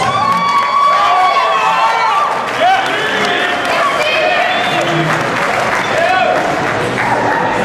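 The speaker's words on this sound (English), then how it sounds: "Give him a big round of applause." Wedding guests applaud and cheer loudly for the best man, a dense sustained wash of clapping with whoops and voices mixed throughout.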